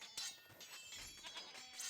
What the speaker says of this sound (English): I would stop wasting time killing goats